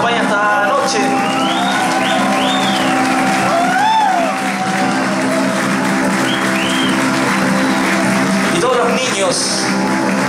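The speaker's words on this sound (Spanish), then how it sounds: "un gran aplauso para la gran Hany Dueñas que nos acompaña esta noche" A concert audience applauds, cheers and whoops for singer Jani Dueñas at a 20th-anniversary celebration show, a loud, continuous crowd roar with sharp rising and falling whistles and shouts scattered through it.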